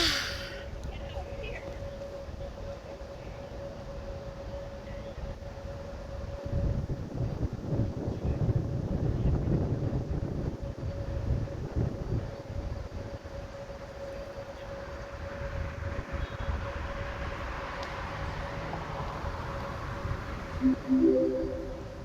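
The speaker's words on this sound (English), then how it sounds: "It's just a little windy." Outdoor wind rumbles and buffets the microphone in uneven low gusts over more than twenty seconds, with a steady faint hum running through it and a gust that strengthens in the middle.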